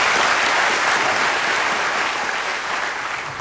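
Loud, sustained applause from a large crowd at a live motivational event, dense continuous clapping that stays strong and tapers slightly toward the end.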